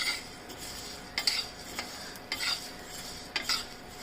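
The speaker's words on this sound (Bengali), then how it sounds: "হালকা হিটে আস্তে আস্তে নাড়তে থাকুন।" A spoon slowly stirs puffed rice snack mix with chanachur in a pan over low heat, giving soft scraping and rustling with a few sharper clinks at irregular intervals, close and fairly quiet.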